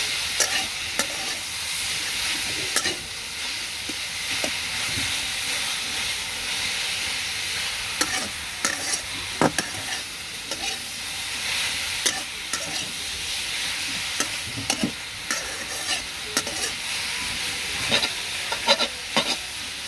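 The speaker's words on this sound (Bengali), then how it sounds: "একটু নাড়াচাড়া করে তেল, পেঁয়াজ রসুন শাকের সাথে মিশিয়ে নেব।" Kalai greens stir-fry with oil, onion and garlic in a pan, a continuous near sizzle and hiss punctuated by frequent clacks and scrapes of the stirring spoon, with no voices.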